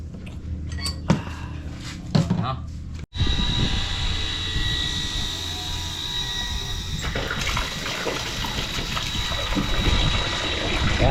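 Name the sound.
booster pump pumping water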